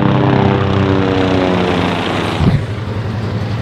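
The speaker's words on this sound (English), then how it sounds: "That's our helicopter right there." A loud helicopter drones with a steady rotor hum that shifts and fades a little after a couple of seconds.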